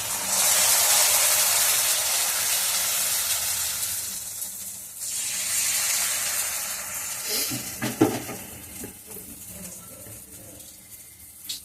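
Patishapta batter, a rice-flour crepe for the Poush Parbon festival, sizzles in a hot wok, a loud bright hiss that gradually fades, with a few clinks and scrapes of a utensil toward the end.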